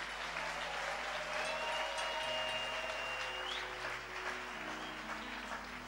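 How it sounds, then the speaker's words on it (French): Church congregation applauds the Lord with dense, sustained clapping, a steady wash of hands from many people, fairly distant and even, with faint tonal sounds beneath. "Est-ce qu'on peut bien acclamer le Seigneur?"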